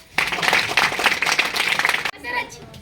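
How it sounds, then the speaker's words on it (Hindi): A group of people at a gathering clap together in a dense burst of applause for about two seconds, then a few scattered claps trail off as voices are heard in the background. "तो अब ताली बजाओ सब लोग।"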